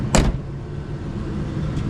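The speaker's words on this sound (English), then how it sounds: "Doors open and shut just like they should." A Toyota Tacoma pickup door gives one sharp shut near the start and a fainter second thud near the end, over a low, steady background rumble.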